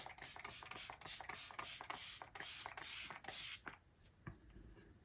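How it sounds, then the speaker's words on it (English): Repeated quick spritzes of makeup setting spray misted on a face, a rapid series of close hissing mists, followed by a short quiet pause and a faint click. "I'm going to go in with the IMCO setting spray"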